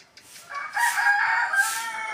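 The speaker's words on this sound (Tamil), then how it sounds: "இந்த சேவல் மட்டும் இருக்காங்க" A rooster crows at a home in the early morning, one long, loud, close call that rises and holds with strained harmonics, alone without talk.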